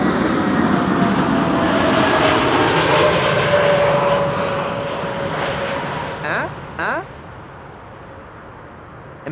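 Airliner touching down at Amsterdam Schiphol with jet thrust reversers deployed, a loud sustained roar that swells and then fades away as the aircraft slows, with a few brief clicks near the end.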